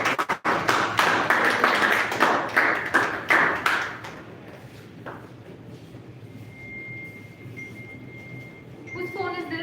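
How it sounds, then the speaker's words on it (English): A round of applause at a Toastmasters club meeting welcoming a speaker: several seconds of brisk clapping from a small room that fades out, followed by quieter room noise, faint voices and a brief electronic chime. "let's welcome her with a round of applause"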